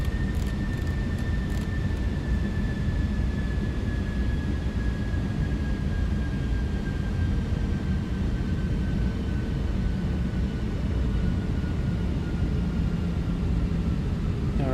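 Airbus A319 engines at idle thrust in a flight simulator, a steady, even rumble with a faint high whine that slowly falls in pitch, heard alone throughout.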